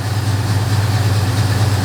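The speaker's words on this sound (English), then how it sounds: "It's just idling kind of high." A 1968 Chevrolet C-10 pickup's engine idling high while still warming up, a loud, steady, close-up drone with an even low throb and no change in pitch.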